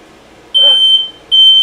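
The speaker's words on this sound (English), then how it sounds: "We're about to set off the Fire alarm. smoke alarm here," A household smoke alarm, set off by a pizza oven heated to 500 degrees, gives two loud, piercing electronic beeps, close and sharp, the first slightly longer, with a short gap between them.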